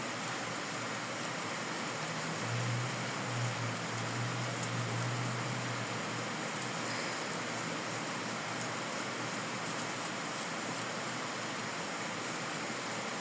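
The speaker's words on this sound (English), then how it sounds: "It's crazy rain, and I like it." Heavy rain falls outside in a steady, even hiss, a constant wash of droplets heard faintly from indoors without any voices.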